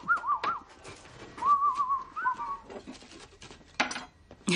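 Someone whistles a short wavering tune in a few phrases, with brief noises between them.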